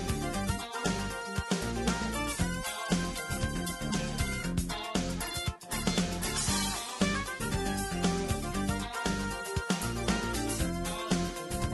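Underwater Good Future stage music from the video game Sonic CD, a bouncy synthesized tune with a steady beat and layered melodic lines playing continuously and clearly.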